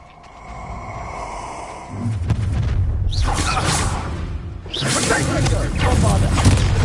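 The Bombarda spell in Hogwarts Legacy sets off two heavy, booming explosions with rushing whooshes and rumbling debris, loud and close, over a droning background.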